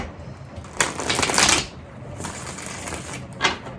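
Close, papery riffling of tarot cards being shuffled, one long burst followed by softer rustling and a brief final riffle, with no talking.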